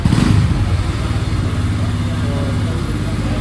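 A motorcycle engine, a Royal Enfield Hunter 350, idles close by with a steady low throbbing rumble, slightly louder at the start, no talking.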